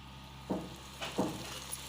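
Puri dough frying in hot oil, quiet sizzling with three soft bursts of bubbling spaced evenly as the oil is stirred or spooned, over a faint steady hiss.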